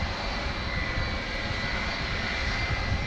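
A steady, loud roar of airliner engines fills the air at DFW airport at night, a constant broadband rumble and whine with no break and no talking.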